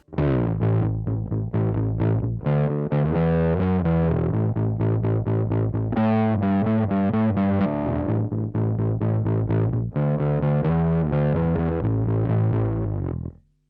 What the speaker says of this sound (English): let's just add the fuzz, see what that sounds like